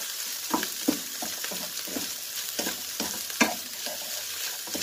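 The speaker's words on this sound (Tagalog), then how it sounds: "So, lutuin muna natin, guys. Yan. Para maluto din yung, ano, vegetable." Vegetables for fried rice stir-fry in a non-stick pan, with a steady sizzle and repeated scraping strokes of a spatula, close and moderately quiet, no voices.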